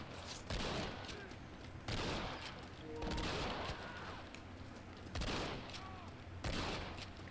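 Gunfire in Red Dead Redemption, loud repeated bursts of shots arriving every second or so in a rough rhythm, layered over a continuous busy game soundscape.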